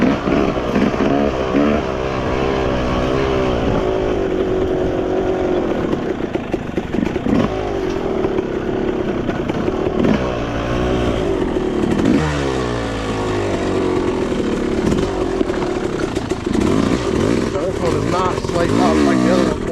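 A Yamaha YZ dirt bike rides a motocross track, its engine revving and loud through the whole ride with constant rise and fall of the throttle. A rider talks over the engine noise.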